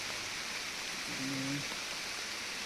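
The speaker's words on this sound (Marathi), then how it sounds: "पाऊस आता नाही एकदमच जोराचा यायला लागला" Heavy rain pours in the hills, a dense, even hiss of falling water without letup, with a faint brief tonal sound in the middle.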